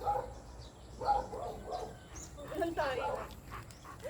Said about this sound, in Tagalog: Oh, ay mga aso doon.